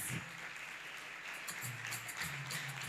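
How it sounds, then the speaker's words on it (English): An audience applauds after a student team's presentation at a financial literacy challenge, steady clapping from a room of listeners held at an even level for a few seconds, with no talk over it. "A round of applause."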